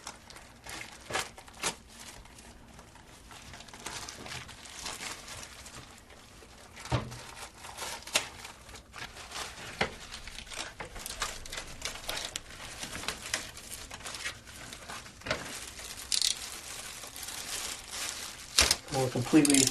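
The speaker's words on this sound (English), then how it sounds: "unroll it, and then we're going to cut very carefully with our razor knife" Plastic sheeting crinkles and rustles as it is unrolled and cut with a razor knife while covering a kitchen for painting, with scattered sharp crackles and quiet handling noise.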